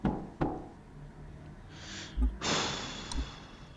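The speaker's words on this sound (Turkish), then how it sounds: "Yine kapı çalıyor." Knocks on a door in a horror video game: a couple of sharp raps early, then quiet, followed by a louder burst with a breathy rush and a final soft thud.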